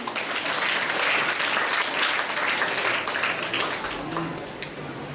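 An audience at a school Children's Day event claps in dense, continuous applause. The clapping stays full and lively before thinning slightly toward the end.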